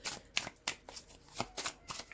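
Tarot deck of sturdy card stock being shuffled by hand, a run of quick crisp riffling bursts, close and fairly quiet, with no talk over it.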